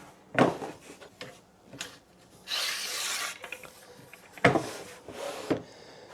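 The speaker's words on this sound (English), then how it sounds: "I'm going to go ahead and score that with my razor knife real quick." A razor knife scoring the wood of a door jamb while mortising hinges, several short scraping strokes close by with a longer rasping cut in the middle, separated by quiet pauses.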